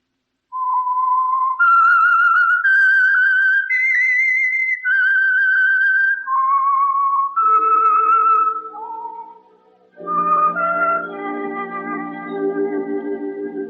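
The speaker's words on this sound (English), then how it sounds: "That whistle is your signal for the Signal Oil program" A lone whistler carries a slow, clear melody, the signature tune of the radio program The Whistler, and an orchestral accompaniment swells in near the end.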